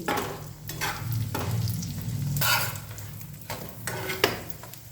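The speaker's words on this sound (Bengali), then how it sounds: "এবার এটাকে আমি ঘি দিয়ে ভেজে নেব আমি ঘিটা একটু মেল্ট করে নিয়েছি উল্টে পাল্টে এবার ভালো করে ভেজে নিচ্ছি" A paratha frying in melted ghee and being flipped in a pan gives off a soft, continuous sizzle, with intermittent bursts and light clinks of a utensil against the pan, close up and with no talk.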